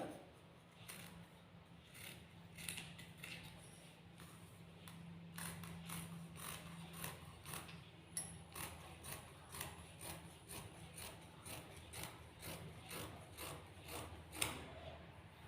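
Scissors cut through a fabric pattern for a pattu pavadai, a child's silk skirt, with faint, repeated snipping and clicking strokes in a quiet room.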